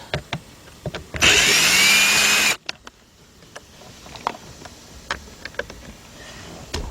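A power screwdriver backs out Phillips screws during shifter cable work on a 2000 Isuzu Rodeo 3.2 in a single loud whirring burst of about a second, followed by quiet clicks and handling noises.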